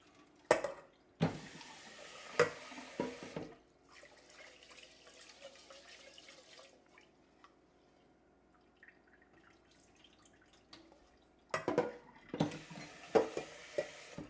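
Rice being rinsed under running kitchen tap water: loud splashing bursts with clinks at the start and again near the end, separated by a long stretch of faint trickling. No one speaks.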